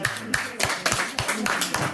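Rhythmic hand clapping at a memorial gathering, about eight regular claps in a steady beat, close and fairly loud, with voices faintly underneath.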